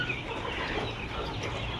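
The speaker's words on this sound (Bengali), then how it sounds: "দেখুন সুস্থ এবং মানসম্মত সাদা লেয়ার মুরগির বাচ্চা" White layer chickens on a poultry farm cluck in a dense, continuous chorus, many birds close together in a brief, loud burst with no talking.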